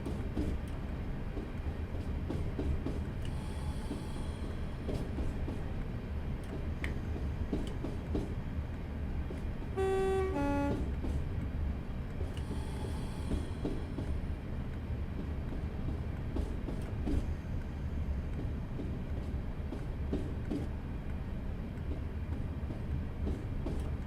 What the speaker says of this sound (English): we need to start slowing up our train in a moment as we are approaching the 10 mph speed board